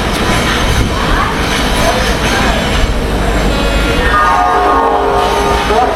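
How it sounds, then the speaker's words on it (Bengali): Tamralipta Express on the Howrah to Digha route rumbles loudly from inside a carriage, a continuous heavy rail roar with rattling and a tonal horn-like sound rising near the end. "হাওড়া থেকে দীঘা যাওয়ার এটা কিন্তু সব থেকে মানে ফাস্টেস্ট ট্রেন"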